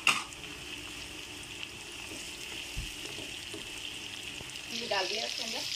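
Onions browning with tomatoes in a pan for a keema dish give a steady, moderate sizzle close by, with soft stirring taps and a livelier bubbling fry swelling near the end.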